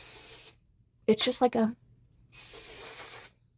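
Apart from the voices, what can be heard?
aerosol spray powder can spraying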